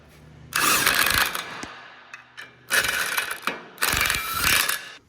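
Locks on a homemade welding table being wound up, giving three loud bursts of clicking, ratcheting mechanical rasp separated by short pauses, close by and with no talk.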